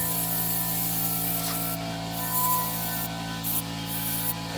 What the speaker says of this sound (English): go ahead and spray this down a little bit